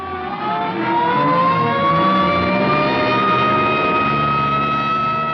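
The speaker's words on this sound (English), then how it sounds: "here comes an ambulance out" A loud ambulance siren wails with rising tones over an engine rumble, close by and continuous as the vehicle pulls away.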